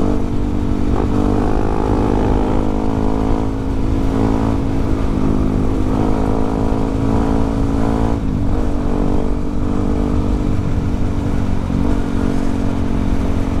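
A motorcycle engine runs steadily during a night ride on Indonesian roads, a continuous loud drone with harmonics shifting slightly as the rider holds speed, without any talking.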